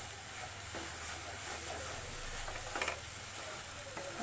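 Carrot laddu mixture being mixed with powdered milk in a pan: a soft, steady sizzle and stirring scrape with a few light knocks, quiet and with no talk.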